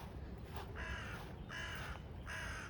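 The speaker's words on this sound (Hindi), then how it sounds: "बर्ड का चहचहाना सुनाई दे रहा होगा।" Crow cawing beside a river, three harsh caws spaced about a second apart standing out clearly over a soft outdoor background hum.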